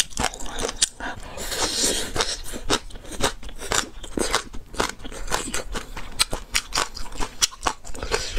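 Crunchy food, spicy pickled vegetable root, being chewed up close for ASMR eating: dense, rapid crisp crunches and bites repeat steadily and loudly with no talking.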